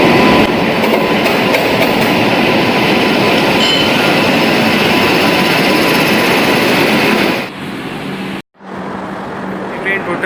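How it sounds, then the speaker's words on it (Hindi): Vaishali Express passenger train hauled by a WFP7 locomotive, a loud continuous roar of wheels and rolling stock heard close up, dropping abruptly near the end before the rumble resumes. "कानपुर सेट के WFP7 लोकोमोटिव के साथ आज चल रही है वैशाली।"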